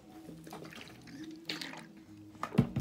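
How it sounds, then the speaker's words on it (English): Close, quiet sipping from a drink of water, with soft slurps, swallows and faint liquid sounds against a hushed room. "I was just having a sip of water."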